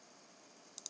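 Two quick, crisp computer mouse clicks in close succession, launching Minecraft on a computer, heard close over faint background hiss.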